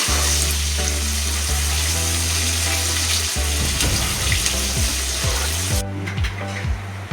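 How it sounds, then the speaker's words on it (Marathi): Onion frying in a pan for a Konkani-style prawn dish gives a loud, steady sizzle under prominent background music, with a few soft knocks of stirring toward the end. "आता कांदा घालूया. कांदा लाल होऊन द्यायचा."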